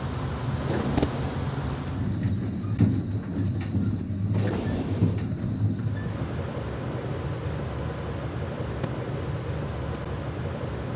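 A moving train in the stealth video game Splinter Cell: Pandora Tomorrow gives a steady low rumble and rattle, loud and continuous, with heavier thumps every few seconds and no voices.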